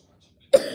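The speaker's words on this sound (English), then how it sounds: "I've got a bit of a cough." A single short, sharp cough close up, following a brief silence.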